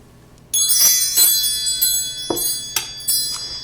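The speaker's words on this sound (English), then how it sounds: "Let's call in spirit with some wind chime time." Wind chimes ring out after a quiet start, with several bright shimmering strikes that overlap and sustain, each new tap layering over the decaying tones, close and fairly loud with no voices.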